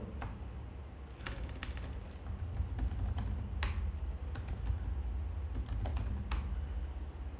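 Quick keystrokes clatter on a computer keyboard as a new password is entered at a MikroTik router login, bursts of close taps over a low room hum.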